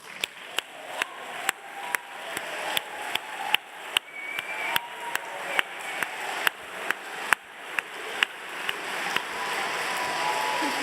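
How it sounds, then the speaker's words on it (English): Steady audience applause for sponsors standing at a British documentary awards ceremony, a dense wash of clapping with regular sharp claps or thumps standing out, sustained throughout without speech. "I would like to give them a round of applause"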